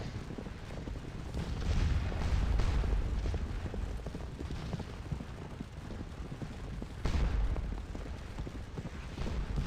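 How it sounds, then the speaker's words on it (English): Artillery guns fire in a Civil War–style strategy game, heavy booms rolling and overlapping amid a constant rumble of distant battle, with louder blasts near the start and toward the end. "Gun's been firing quite a while over here."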